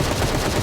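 Rapid automatic gunfire in a first-person shooter video game, a loud, dense burst of rattling shots that fills the whole moment without pause.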